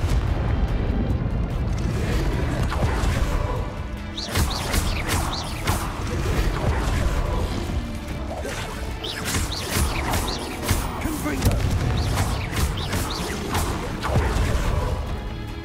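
Confringo fire spells go off during combat in Hogwarts Legacy, a run of loud booming blasts and crashes over dense game noise and music, several separate bursts spread through.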